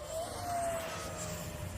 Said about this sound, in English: just the way this plane is designed, it just has that whistle to it